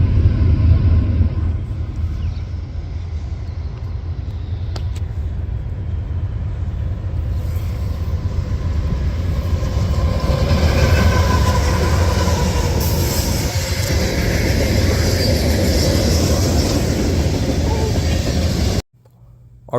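A heavy freight train rumbles past for a long stretch, wheels clattering steadily over the rails, loud and close before cutting off abruptly.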